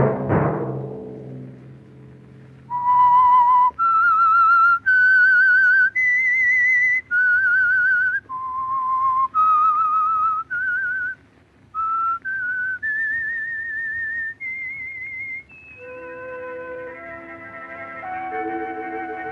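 The whistled theme of the 1947 CBS radio mystery The Whistler: a clear, bright melody of sustained notes rising and falling, ending in a brief musical chord.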